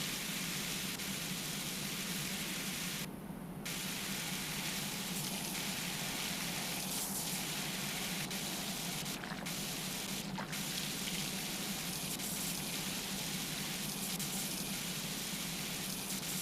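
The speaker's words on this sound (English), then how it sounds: "As I'm blasting water to clean off this stinking van." A water blaster sprays to clean a van, giving a continuous broadband hiss and splatter that runs steadily and fairly close throughout, with small shifts as the spray moves.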